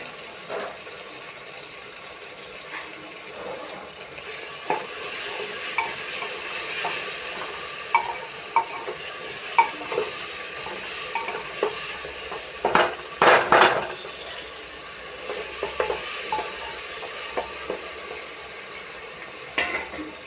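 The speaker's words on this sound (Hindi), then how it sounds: "और अब मिर्च डालेंगे।" Chilies go into a hot pan of lauki masoor dal with tomatoes, which sizzles steadily while a spoon stirs and scrapes against the pan, with a cluster of louder clatters near the middle.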